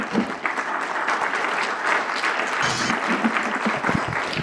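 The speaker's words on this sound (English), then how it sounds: "So please give him a round of applause." An audience welcomes a guest speaker in Kansas City with steady applause, a dense, even wash of clapping that holds for several seconds with faint voices mixed in.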